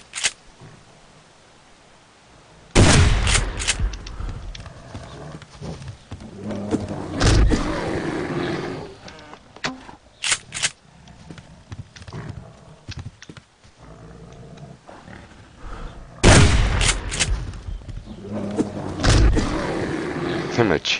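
Shotgun blasts in the survival video game Subsistence: a few loud, sharp booms spaced several seconds apart, each with a short rumbling tail, separated by quieter stretches of game ambience.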